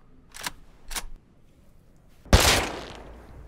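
AK rifle fire in a video game: two sharp, separate shots ring out, then a louder, heavier blast follows with a lingering tail that slowly fades.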